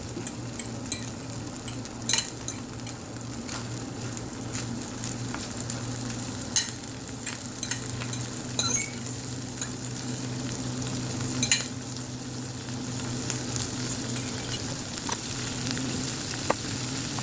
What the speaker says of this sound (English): Ooh, it's already sizzling.